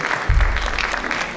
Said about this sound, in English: They clapping for the stage